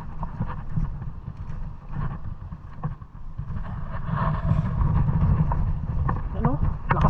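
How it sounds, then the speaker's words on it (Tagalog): Strong wind buffets the microphone at a seashore at high tide, a constant low roar with gusts, while people talk over it. "Lakas ng hangin mga toto"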